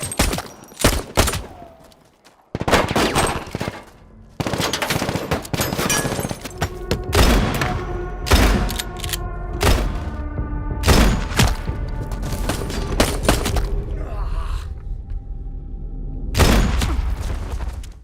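Gunfire in a film scene where a former soldier fires back from inside a house: loud, dense volleys of overlapping shots and booming impacts mixed with a heavy soundtrack, sustained and chaotic, with no talking.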